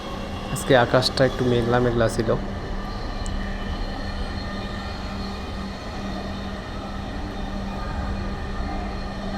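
A metro rail train runs at speed, a steady low rumble and rolling drone throughout, with a voice speaking briefly near the start over the noise.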